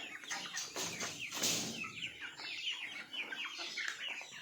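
Chickens cluck steadily on a farm, with busy overlapping clucks and brief calls filling the whole stretch at moderate distance, plus a possible flutter of wings partway through.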